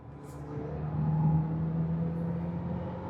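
A Fiat Fastback Abarth 2026 engine hums steadily from inside the cabin as it accelerates, rising slightly in the middle, with no talking.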